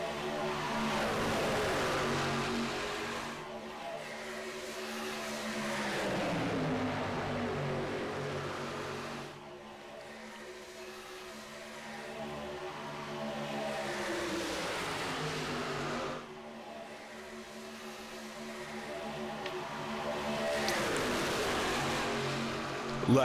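Pickup race trucks at Talladega roar past in three waves, each engine note rising and then sweeping downward as it passes. Loud and close, with the sound dipping between the bursts.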